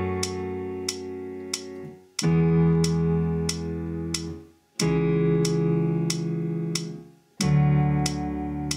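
Sustained piano keyboard chords, each held static for four beats, four chords in a row with a clear attack at each change and a slow decay until the next chord.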